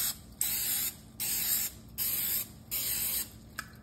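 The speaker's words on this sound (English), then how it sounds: "we need to make sure to spray this Pam nice because we want those donuts to come out perfect" Four bursts of Pam butter cooking spray hiss into a donut pan in even pulses, each lasting about half a second with short gaps between, close and clear with no talking.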